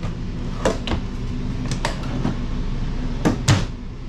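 Several wooden storage drawers beneath the TV cabinets in a Jayco Alante 26X motorhome slide and bump shut in quick succession, a handful of sharp knocks close by over a low room hum.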